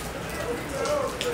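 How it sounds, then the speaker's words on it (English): Rain falling steadily on the open deck of the MSC Seaside cruise ship as it sails away from Port Canaveral, a continuous close patter without voices. "so it's a little bit early, and it's raining."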